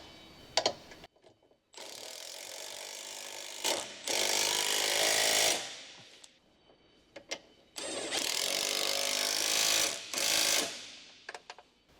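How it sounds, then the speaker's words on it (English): An electric impact wrench with an 18mm short socket tightens lower control arm mounting bolts on a 2015 Ford Escape, sounding in long loud buzzing runs broken by short pauses and a few sharp clicks. "Use an electric impact wrench with an 18mm short socket to tighten the mounting bolt at the front of the lower control arm"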